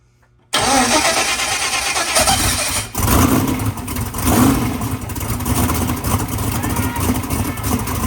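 A car engine being built for a street car challenge cranks briefly and fires up, then settles into a loud, rough idle with slight revving that dips once and recovers, close by, with people talking over it.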